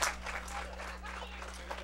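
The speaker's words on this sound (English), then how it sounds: "And a nice round of applause," Spectators at a Little League baseball game, American Legion against Freeland Fire Company, applaud as a player leaves the field; the clapping sounds distant and thin beneath a steady low hum.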